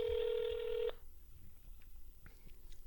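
A rapid burst of touch-tone dialing beeps, dense and loud for about a second, then cuts off to quiet room noise with faint clicks.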